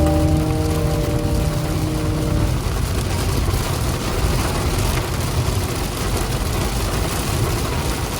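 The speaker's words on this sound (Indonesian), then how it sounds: "Wah, tiba-tiba hujan besar guys." Heavy rain drums steadily on a car driving along a toll road near Surabaya, a dense continuous wash of drops and road noise, loud throughout, with a faint tonal hum fading out in the first few seconds.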